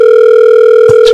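A telephone gives a loud, steady electronic tone with a short burst of noise near the end, with no voices.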